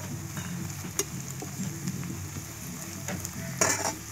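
Onions and chili powder sizzle steadily in a pan, with a constant frying hiss broken by occasional scrapes and clinks of a stirring spoon, close and without talk.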